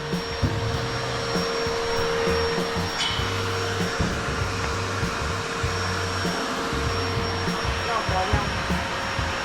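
A steady industrial vacuum cleaning a factory ceiling drones loudly and continuously throughout, with a constant whine and rumbling low tones, with no speech over it.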